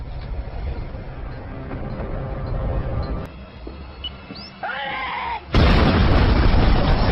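A car blowing up in a film scene: quieter rumbling action and squeaky effects, then a sudden loud explosion that erupts into a sustained, roaring blast through the end.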